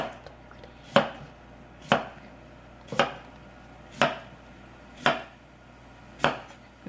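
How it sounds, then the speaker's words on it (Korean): A knife slices a cucumber into rounds on a cutting board: six crisp, evenly spaced chops about a second apart, close and clear against a quiet background. "먼저 오이는 이렇게 썰어 줄게요"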